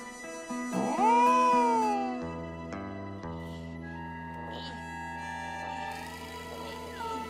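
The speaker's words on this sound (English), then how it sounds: "Wait, is that the cat?" An animated cartoon cat meows in a long, loud, rising and falling cry, followed by quieter tonal background music and effects.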